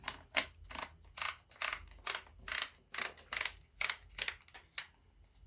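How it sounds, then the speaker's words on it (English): The magazine cap of an Armsan A612 semi-automatic shotgun is screwed back on with a quick, regular run of close, crisp metallic clicks and ratcheting turns, about a dozen in a row, with no one talking. "Okay, then you get your magazine cap, screw that back in"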